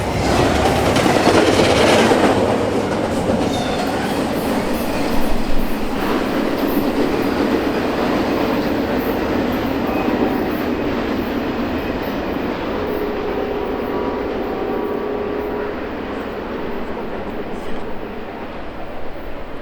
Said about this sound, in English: The intermodal train works Airline Yard in Toledo, Ohio, before turning south to head to Columbus.